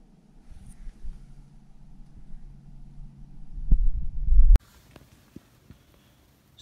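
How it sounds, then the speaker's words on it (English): Simulated heartbeat pulse in a 2019/2020 Ford Mustang GT, a low rhythmic throb and hum that swells steadily over a few seconds before cutting off abruptly, then near silence with faint clicks. "This is simulating the heartbeat of the pony."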